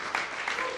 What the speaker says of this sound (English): If we could give him a round of applause for being supportive.